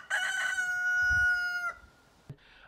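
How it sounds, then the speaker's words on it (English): A rooster crows once on a farm, a long clear cock-a-doodle-doo, followed by a short faint cluck. "he's still crowing. He crows all day long."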